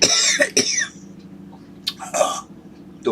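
A person coughs close to the microphone in two harsh bursts, the first a quick double cough and the second a shorter one after a pause, over a low steady room hum.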